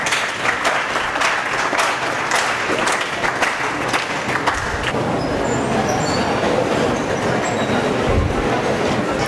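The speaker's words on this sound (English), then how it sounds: "stand on your place and give a huge round of applause" Dense, steady applause from an audience at a Sant Gadge Baba Amravati University event, filling the whole stretch at a strong, even level with no pause.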